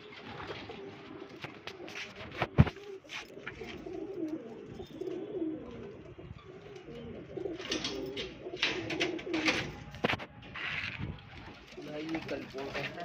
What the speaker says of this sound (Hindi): ये नए कबूतर ला के छोड़े अभी।